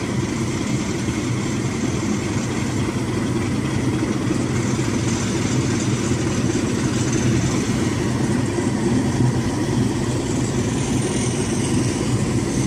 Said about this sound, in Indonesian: Juga bunyinya itu knalpot, cerobong asapnya.